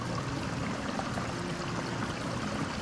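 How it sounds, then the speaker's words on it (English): Creek water running beneath rocks on an Arkansas hillside, a close, steady burble and rush that stays level throughout with no voices. "There's literally a creek running underneath me right now."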